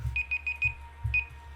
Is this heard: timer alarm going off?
yes